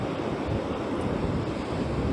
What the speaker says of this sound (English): Just the waves at the moment